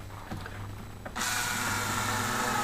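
Power screwdriver driving the first screws to hold the floors of a Kennebunkport cottage, a few faint handling knocks, then the tool starts up into a loud steady whirring drive that continues.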